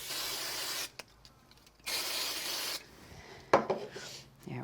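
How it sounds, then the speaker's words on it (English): Distress Oxide spray misted onto layered craft tissue in purple and white, two long close bursts of hiss separated by a pause, then a sharp tap and some rustling before a third short spray begins. "So I'm going to go ahead and put a little spray on these."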